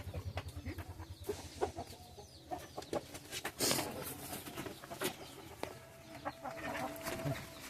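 Medak breed chickens on a Telangana farm cluck and crow in a busy, overlapping chorus, with sharp calls standing out over a steady low farmyard hum, fairly close throughout.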